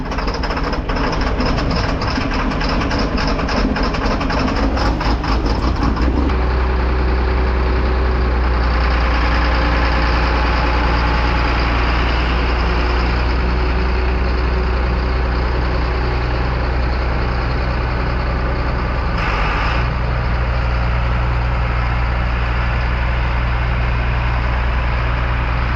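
A John Deere 4960 farm tractor engine idling steadily up close, a loud continuous low diesel rumble with a slight shift in tone partway through and no talking.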